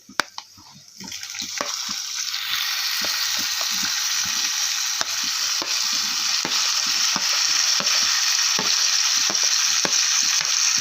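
Finely chopped eggplant frying in oil with ginger and garlic, a loud continuous sizzle that swells after a quiet start, with repeated spatula stirring clicks.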